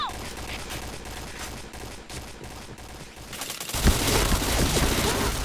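Rapid automatic gunfire from the shooter video game Point Blank rattles in dense continuous bursts, growing louder and busier toward the end, with game sound effects layered in.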